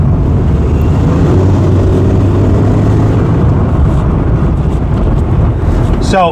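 A car with an aftermarket performance air filter pulls hard under acceleration, its steady engine roar mixed with heavy wind rush throughout, closely recorded from inside.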